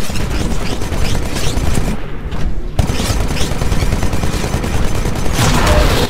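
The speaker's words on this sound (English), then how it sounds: "This weapon absorbs incoming ballistics for a limited time, then refires them." Titan's Vortex Shield in Titanfall hurling captured bullets back out, a loud, dense fusillade of rapid gunfire with a brief lull in the middle, then more sustained shooting to the end.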